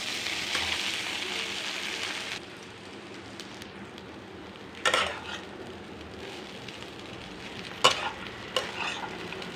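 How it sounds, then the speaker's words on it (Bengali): Flattened rice frying in ghee with cashews and raisins in a pan, a steady soft sizzle with occasional sharp scraping stirs of a spoon. "চিড়েটা এটার সাথে একটু ভেজে নিই,"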